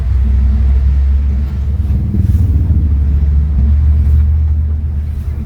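Steady low rumble of cars and road traffic moving along a highway near Panabo, heard from inside or beside a vehicle as a continuous droning roar with slight swells, and no speech.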